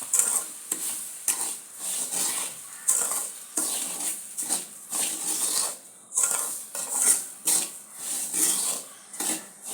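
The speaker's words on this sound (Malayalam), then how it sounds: "ഇനി റവയും കൂടി ഇട്ട് നന്നായിട്ട് ഇളക്കുക" Semolina (rava) and green chillies are stirred in a pan with a utensil, a rhythmic scraping and clinking of metal against the pan over a soft sizzle, close and moderately quiet.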